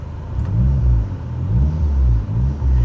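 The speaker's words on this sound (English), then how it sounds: "Car can sit here and idle all day long." A 2003 Dodge Neon SRT-4 with a loud blow-off valve idles close by, a deep, loud rumbling burble with slow rhythmic pulses of engine throb and no talk over it.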